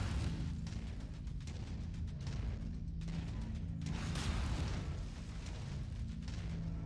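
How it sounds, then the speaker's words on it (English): A video game fills with explosions and fireworks, continuous layered booms and bursts rumbling at a distance in a dense barrage without any speech. "We're here to set off fireworks and lasers and explosions"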